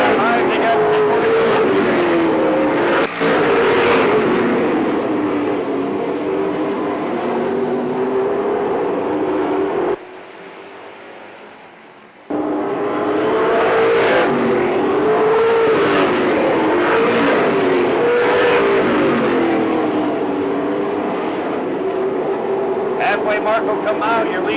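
Race cars roar around a track during a race event, loud engines droning continuously with a rise and fall of passes and a brief drop-out midway, under an announcer calling the field.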